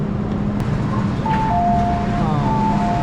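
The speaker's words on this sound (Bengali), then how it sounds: "1 মিনিটের ব্যবধানে, জাস্ট 1 মিনিটের ব্যবধানে সেকেন্ড ট্রেন" A Hong Kong MTR metro train passes with a loud, steady rumbling roar and rising whining tones from its motors, close by and continuous for the whole three seconds.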